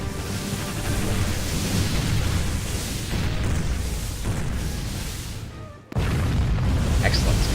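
An enemy ship explodes and sinks in a naval combat video game, a continuous rumbling roar of blast and wreckage that dips briefly and then surges back, loud and dense, with a voice heard over it.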